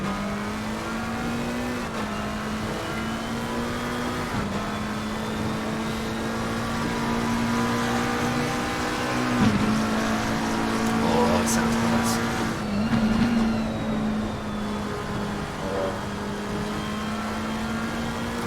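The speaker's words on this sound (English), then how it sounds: "See, I love the sound of this car." A McLaren GT3 race car in a racing video game at a damp, drying Silverstone, its engine holding a steady high drone with several sharp gear-change dips and re-climbs, loud and continuous beneath a commentator's voice.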